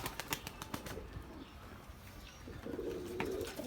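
Mardin pigeons coo softly near a nest holding young birds, low murmuring calls that come and go amid a few brief flutters and rustles close by.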